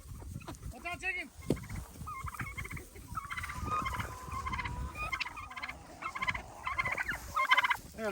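Several turkeys kept with backyard chickens gobble in quick warbling bursts close by while pecking at and eating a pumpkin, some calls overlapping, with a few clucks and faint handling noise between.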